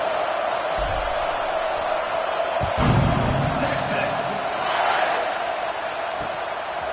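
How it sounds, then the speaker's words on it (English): Stadium crowd at an Ole Miss vs Texas college football game buzzes after a touchdown and extra point, a steady broad roar with brief swells of cheering, heard at a distance under ongoing commentary. "this crowd is buzzing after that last score"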